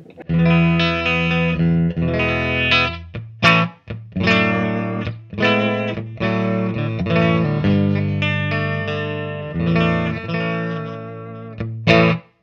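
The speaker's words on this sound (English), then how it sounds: "I am playing through a deluxe reverb and my Whitfield Telecaster, and my clean tone is like this." A clean Telecaster electric guitar through a Deluxe Reverb tube amp, dry, plays sustained chords and single notes, full and warm with a slightly gritty edge, pausing briefly between phrases.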